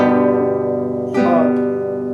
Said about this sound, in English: just do even quarter notes, so it sounds like this. Going back to G